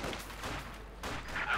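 Battle gunfire from Company of Heroes 2, with submachine guns firing on Panzerfusiliers, forms a dense, continuous crackle of overlapping shots and distant blasts with no pause.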